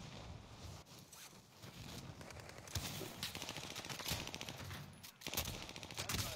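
Gunfire in a video game, bursts of rapid sharp shots and clattering cracks over a constant background rumble, moderately loud and continuous.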